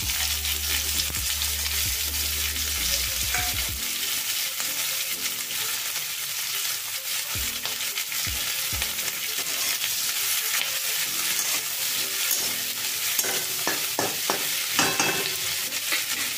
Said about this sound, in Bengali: এখন আমি এর মধ্যে আগে কেটে রাখা পেঁয়াজটা দিয়ে দিলাম।